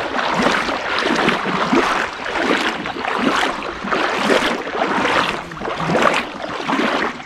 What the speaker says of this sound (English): I'm trailing my kayak behind me.